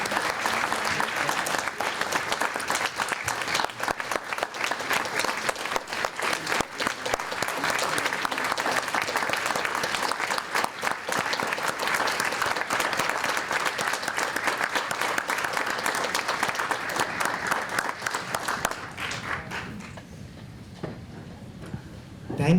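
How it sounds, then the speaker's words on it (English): Sustained, loud applause from a large crowd at an award ceremony, dense clapping continuing steadily before tapering off near the end. "Let's give another round of applause to all winners and Dr. Clemmer."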